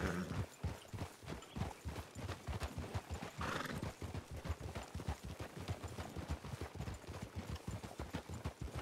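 A horse gallops in the Red Dead roleplay video game, its hooves thudding in a quick, regular clip-clop rhythm that keeps going the whole time, with a brief whinny partway through.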